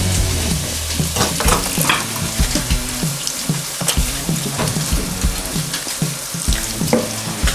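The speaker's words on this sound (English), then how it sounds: "let's give this a mix around" Sausage meat being stirred and mixed with spicy nduja, giving close, wet, squelchy churning with irregular soft clicks and slaps throughout, no talking.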